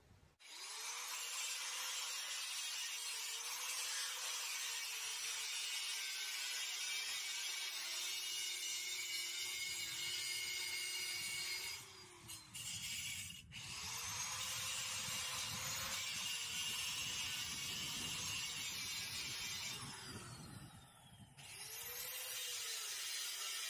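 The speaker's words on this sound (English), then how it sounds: "I'm going to come around on it with the grinder" An angle grinder cuts metal on a trailer fender, a continuous high whine with several brief dips and pitch swoops as the disc bites and eases off, close and alone.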